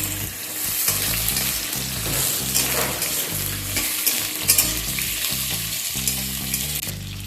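Cut potatoes fry with cumin in a pan, giving a loud, dense, continuous sizzle with occasional stirring. No voice is present.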